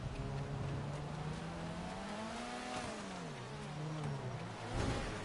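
Race cars drift on ice at a Trophée Andros event, one engine whining close by and rising and falling as it revs through the slide, with harsh tire and ice noise beneath and no voices.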